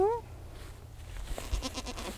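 A bigger homestead goat gives a short bleat up close, followed by quieter farmyard sounds and a voice speaking nearby.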